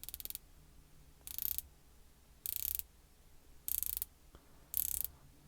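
A Christopher Ward C60 dive watch bezel turns in five short bursts of crisp, close ratcheting clicks, each lasting under half a second and separated by quiet gaps.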